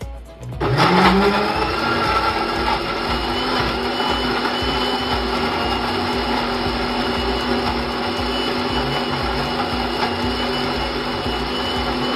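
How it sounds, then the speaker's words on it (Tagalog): Blender whirring at high speed through carrots and banana for a smoothie, a sharp motor start then a loud, steady grinding whine that holds for the rest of the clip without speech. "I-blend lang natin siya hanggang maging smooth and creamy sa high speed"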